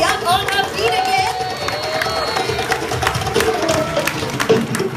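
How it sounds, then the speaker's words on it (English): A crowd at an elephant show claps, stamps and shouts in a dense, continuous roar of noise, with scattered cheers and voices rising throughout. "clap your hands, stamp your feet, scream, shout, make some noise"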